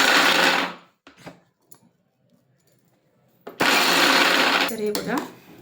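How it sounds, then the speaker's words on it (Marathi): Mixer grinder coarsely grinding roasted peas, two loud whirring bursts of about a second each separated by a quiet pause with small clinks, a voice briefly heard at the end. "मटर भाजून थंड व्हायला ठेवलेले ते आता ग्राइंड करून घेऊया"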